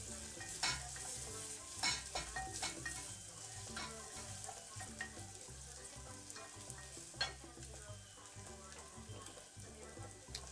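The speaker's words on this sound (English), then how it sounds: "So here the onions were being cooked." Onions fry in a pan, hissing and sizzling steadily at close range, broken by frequent scraping and clicking stirs, with no talking.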